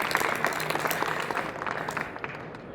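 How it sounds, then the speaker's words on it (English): Audience applause at an awards ceremony for coatings contractors at an industry conference, a brief burst of dense clapping from a crowd that tapers slightly toward the end, with no speech over it. "A big round of applause for Mario."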